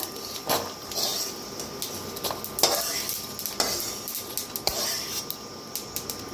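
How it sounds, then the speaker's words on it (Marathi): Sesame seeds dry-roasting in a pan on low heat, with faint crackling and repeated sharp scrapes and taps of a spoon against the pan at an irregular rhythm. No talk is heard. "लगेच भाजतात बघा, तीळ उशीर लागत नाही, गॅस कमी करून भाजा।"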